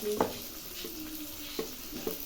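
Onion and green chilies frying in a pan for kanda poha, a soft steady sizzle broken by a few short scraping stirs, close and fairly quiet, no voices.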